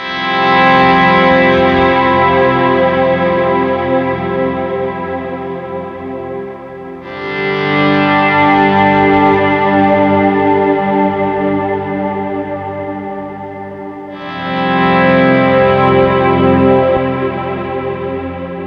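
Ambient electric guitar chords pass through a Valhalla Shimmer reverb plugin with the shimmer turned off, three long swelling strums each decaying into a wide, washy tail, loud and alone with no talking.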